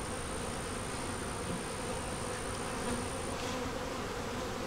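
Honeybees at an open hive make a dense, steady buzz at close range, unbroken and even in loudness throughout, with no voices.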